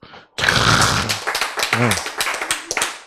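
A lecture audience at a Korean Bible class breaks into short, scattered clapping right after a brief spoken word, the hand claps loud and close before quickly thinning into a few lingering taps.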